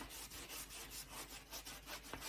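Wax being buffed off a surface by hand, a soft, close rubbing that swishes in a steady repeating rhythm.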